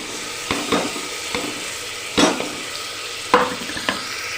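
Onion and tomato fry in a pan with a steady, close sizzle, broken by four or five scraping stirs spaced about a second apart.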